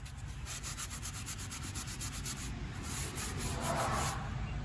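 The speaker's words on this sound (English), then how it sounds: "Get all this rubber off here from that gasket." Rubber gasket material is scraped off a brake part on a Chevrolet C6500 truck, a steady rough rasping that runs continuously and close, with no voices.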